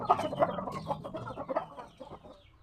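Chickens, sick birds under treatment during the rainy season, cluck busily in a steady stream of short, soft calls while they feed, fairly close, with no voices.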